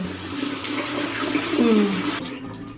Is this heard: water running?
yes